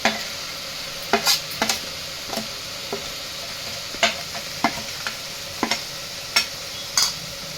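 A spatula stirs fried brinjals and masala powder in a pan, scraping in irregular separate strokes over a low, steady sizzle, close and with no voices.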